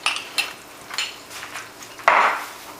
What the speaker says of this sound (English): I am going to put the sun-dried tomatoes in.